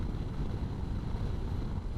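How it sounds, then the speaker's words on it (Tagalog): Stronger wind crossing an open field while riding a motorcycle solo on the Mindoro loop; a dense, unbroken low roar of buffeting wind, loud and close, with no speech. "mas malakas ang hangin dito."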